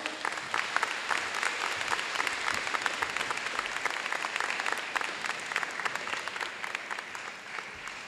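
An audience at a school assembly applauds parents being recognized for their awards, with a steady, dense wash of many hands clapping that carries through without a break and fades slightly near the end.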